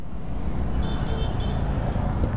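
A short motorcycle horn toots faintly a few times over steady engine and road noise on a Royal Enfield ride near Lonavala, the wind and traffic rumble dominating throughout.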